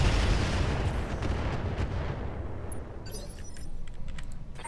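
Mech weapons fire in the RogueTech BattleTech video game, a heavy rumbling barrage that fades, followed by faint clicking and metallic ticks.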